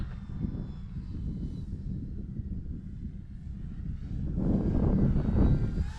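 An FMS PA-18 Super Cub RC model plane with a 1300mm wingspan flies in windy conditions. Its steady motor drone swells louder toward the end, with wind rumbling against the microphone.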